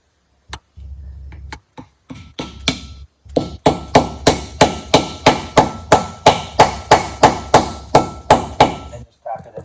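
A hammer taps a wheel bearing race into place on a brake rotor during classic-car wheel bearing work: a few scattered knocks, then a steady run of about fifteen sharp metallic taps, close and loud, with no talk.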